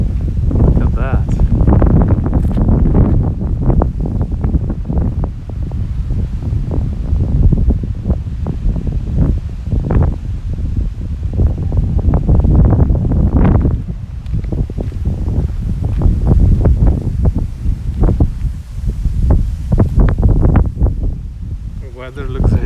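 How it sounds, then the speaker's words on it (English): Heavy wind in Tokyo, Japan rushes and rumbles steadily at close range, with gusty swells and some rustling, under intermittent conversation. "That is crazy windy."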